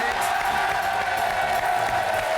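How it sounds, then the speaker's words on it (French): A French television game show studio audience applauds steadily through the whole stretch, a dense wash of clapping and crowd noise at fairly loud, even level. "Je voudrais qu'on applaudisse tous les célibataires qui étaient avec nous aujourd'hui."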